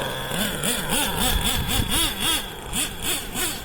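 A Traxxas T-Maxx nitro RC truck engine revving in quick, repeated rising and falling bursts, a loud buzzing whine close by with no speech.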